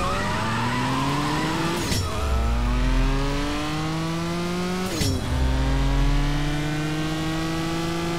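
A race car in the video game CSR 2 launches off the line, its engine roaring and climbing in pitch through two sharp gear shifts, loud and steady with no talk.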